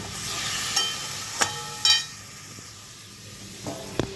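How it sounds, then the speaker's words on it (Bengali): Chicken soup ingredients fry in a pan with a soft, steady sizzle, broken by a few brief stirring scrapes and clinks; no one speaks. "সব ভালো করে একটুখানি ভাজা করে নেবো"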